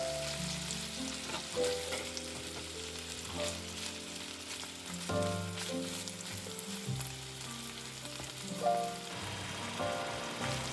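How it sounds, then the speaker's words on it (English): Chopped bacon sizzles and crackles in a pan over medium to medium-high heat, a steady busy frying hiss with occasional stirring scrapes and soft background music, no voices. "Put the chopped bacon in the pan and cook it over medium or medium-high heat"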